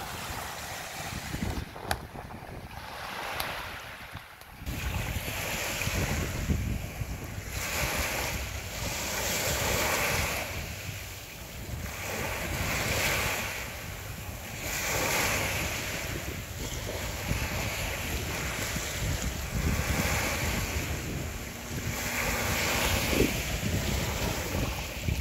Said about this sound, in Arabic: تستمتعوا شوية بصوت المية.